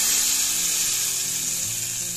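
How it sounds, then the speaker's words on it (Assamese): Red chili powder and cumin sizzle in hot ghee for a dal tarka, a loud, steady hiss of frying with faint stirring underneath. "ইয়াতে দিলোঁ ৰঙা জলকীয়া পাউডাৰ এচামুচ, এইখিনি ভালদৰে লৰাই দিছোঁ"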